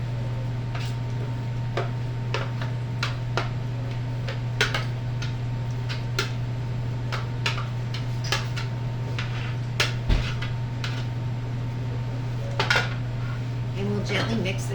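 Ricotta, sharp provolone and other cheeses with finely chopped parsley go into a mixing bowl, giving scattered light clinks and taps of utensils against the bowl over a steady low kitchen hum.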